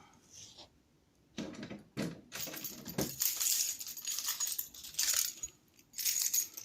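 Metal keys jingling and clinking while one is inserted into a fire alarm control panel to open it, with sharp clacks and rattling bursts, close and fairly loud, no speech.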